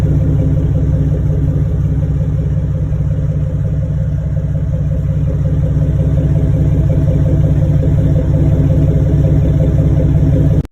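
Jeep with an S&J built engine running, a loud steady low rumble with a fast pulsing throb, close up and unbroken for the whole stretch, no voices.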